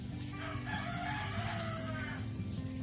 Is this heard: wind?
no